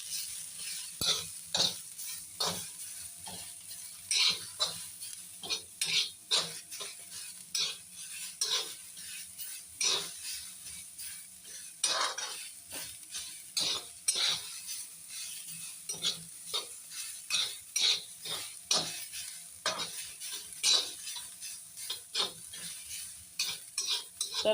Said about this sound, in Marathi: पूर्ण लालसर होऊ दे, चांगला खरपूस भाजूया